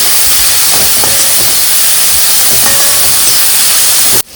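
Onions, shallots, curry leaves and green chillies sautéing in a pan for Kerala-style mutton roast, a loud, constant hissing sizzle with a few faint tool clinks, cutting off abruptly at the end.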